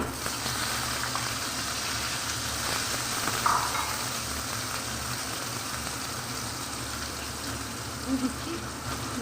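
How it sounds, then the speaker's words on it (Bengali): Diced potatoes frying in hot oil, giving a steady, even sizzle that holds at a constant level throughout with only a couple of small bumps. "আলুকে আমি এইভাবে ডুমো ডুমো করে কেটে নিয়েছি। এবার আমি এই তেলের মধ্যেই দিয়ে দিচ্ছি"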